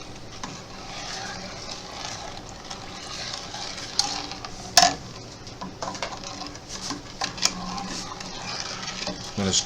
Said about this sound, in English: I'm going to stir this and dissolve the sugar in the juice